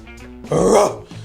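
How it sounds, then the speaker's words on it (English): A dog gives a short rough growl up close, rising briefly then fading after about a second. "That's my dog."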